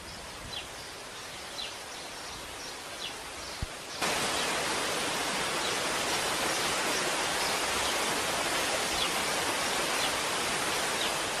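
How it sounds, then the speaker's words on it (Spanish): Waterfall in the gardens of a Galician pazo, fed by the river crossing the estate: a constant dense roar of falling water that jumps suddenly louder partway through and stays steady, with no voices. "Pocos jardines del mundo cuentan con su propia cascada."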